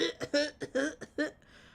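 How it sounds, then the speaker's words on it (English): A person coughs in a rapid series of harsh, close bursts, about six in quick succession, trailing off into a faint breath. "I'm still choking, hold on, I'm still coughing."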